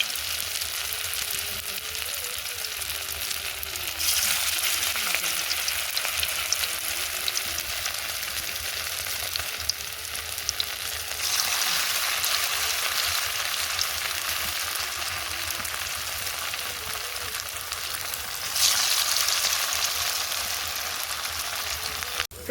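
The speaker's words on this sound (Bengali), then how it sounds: "এক পিঠ করে একটু ভাজা ভাজা হয়ে গেছে, এবার আরেকটা পিঠ উল্টে দেবো" Drumstick flower fritters fry in oil in a wok with a continuous hissing sizzle that swells louder in stretches, steady and close with no talking.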